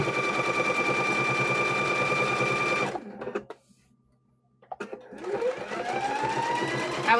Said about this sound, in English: We're going to go back and stitch it again